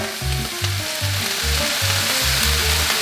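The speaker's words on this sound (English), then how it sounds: "Can you hear that sizzle? That means that heat's nice and high" Loud, steady sizzling of fried rice with leftover chicken frying in a hot pan, a continuous crackling hiss heard up close with a low rhythmic pulsing underneath.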